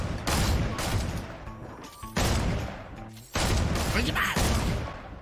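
Loud sniper gunfire in a first-person shooter video game, three heavy blasts with echoing tails, separated by short gaps and mixed with game sounds.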